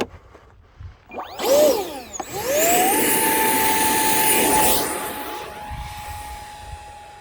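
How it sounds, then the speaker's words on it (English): A 50mm electric ducted fan in a 3D printed lightweight-PLA RC A-4 Skyhawk jet spools up with a rising whine, then holds a loud, steady high-pitched whir before slowly easing down. "This has got a 50mm EDF in it."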